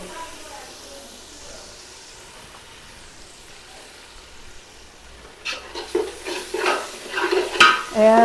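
Ginger-garlic paste and spices tipped into frying onions in a pan, then stirred: a faint low sizzle gives way to loud, irregular scraping and clanking of a utensil against the pan in the final seconds.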